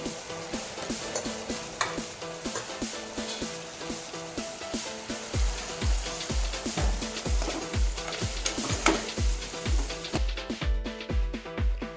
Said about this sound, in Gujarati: ધાણા જીરું પાવડર, હળદર પાવડર, લાલ મરચું પાવડર મિક્સ કરી દઈશું